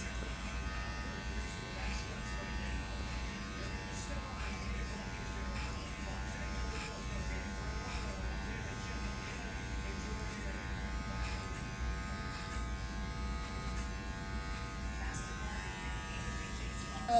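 An electric foil shaver buzzes continuously and steadily at close range while cutting hair, a constant drone running unbroken throughout.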